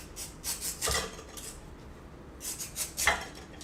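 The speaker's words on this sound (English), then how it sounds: "And then, with the julienne peeler, it's so easy. You just go like this." Quick scraping strokes of a julienne peeler shredding a vegetable for slaw, several short rasping passes close up, a pause, then another cluster of strokes, quiet and without talk.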